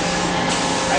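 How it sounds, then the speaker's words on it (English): Heated press machine, warmed to a little under 200 degrees, opening on its own with a loud steady hiss and whir that shifts midway, close and continuous. "So then it opens up automatically, like that one just did."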